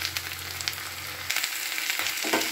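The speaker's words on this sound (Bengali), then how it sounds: "এবার সমস্ত সবজিগুলোকে আমি মিশিয়ে নেব" Mixed vegetables sizzle and fry in a pan as they are stirred together, a steady close crackle with a low hum in the first half and soft scraping stirs.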